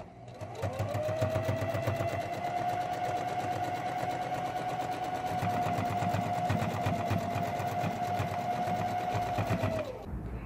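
A sewing machine running one steady, continuous seam on a baby jumper for about ten seconds, close and loud with a constant whirring hum, then stopping; no voices.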